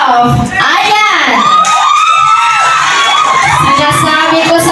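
Studio audience of a noontime TV singing contest erupting in loud, close shouting and cheering, with excited high-pitched whoops and yells rising and falling in swoops throughout, voices clamoring over one another.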